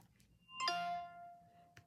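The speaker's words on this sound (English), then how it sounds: "it makes a really nice chime." An iPhone 14 plays its power-off chime, a short, clear, bell-like series of ringing tones that sustain and slowly fade, heard close and alone over a quiet background.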